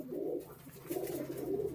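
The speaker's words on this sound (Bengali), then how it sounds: "এটা মাদি পায়রা" A female Madras pigeon cooing close by, two drawn-out low throaty coo phrases separated by a short pause, faint and alone.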